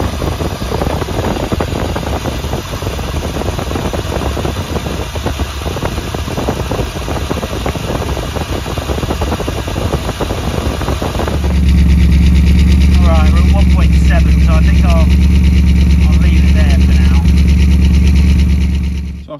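A car engine idles steadily during an exhaust CO test with a gas tester probe in the tailpipe, at first rough and masked by broadband clatter, then a loud, even, close-up low hum for the final several seconds.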